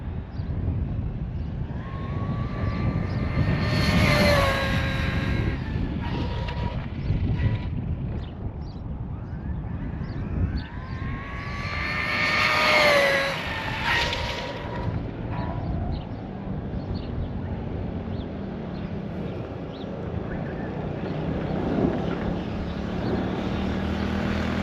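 An Arrma Mojave 4s RC car makes a speed run outdoors, its high electric motor whine rising and falling twice as it passes near, over steady wind noise.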